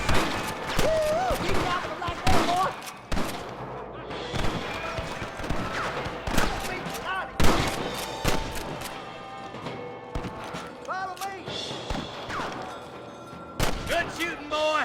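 Gunshots ring out in a Red Dead Redemption gunfight, a loud irregular volley of sharp cracks and bursts layered with game voices calling out over the action.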